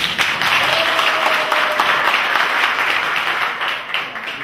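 A crowd applauds steadily at a presidential election campaign rally for Guinea's 2015 vote, dense sustained clapping that stays loud throughout before easing slightly at the end.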